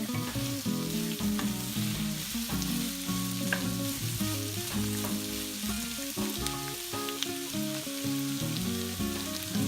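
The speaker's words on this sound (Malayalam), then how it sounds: "സവാള നന്നായി വഴന്ന് വരണം." Chopped onions sautéing in oil for Kerala-style egg roast make an even, gentle sizzle throughout, partly masked by steady background music, with light intermittent stirring noises.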